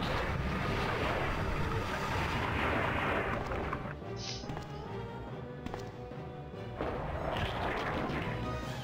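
Rocket launcher blasts and explosions in Resident Evil 2 on PC, a dense, loud, continuous roar of booming detonations with a brief lull midway before the heavy rumble returns.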